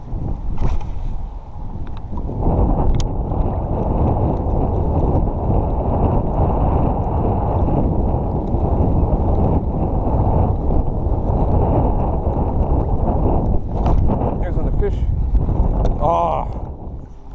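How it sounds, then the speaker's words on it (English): Strong wind roaring steadily around an anchored fishing boat on a lake over hydrilla beds, a loud, continuous buffeting rush with microphone wind noise throughout. "the wind is strong enough that it's actually pushing my boat despite the anchor"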